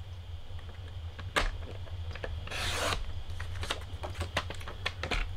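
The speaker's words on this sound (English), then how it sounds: "So back over with our trimmer, and I'm going to cut it to 1 1/8." A paper trimmer slices through a cardstock mat for a handmade card, a quiet sequence of light scraping and clicking strokes with one longer rasping pass of the blade, close and soft.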